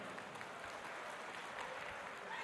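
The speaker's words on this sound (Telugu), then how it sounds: "చప్పట్లతో స్వాగతం చెప్పుదాం" Audience applause at a political meeting welcoming guests, steady dense clapping from a large crowd that fills the whole stretch, fairly loud and without pause.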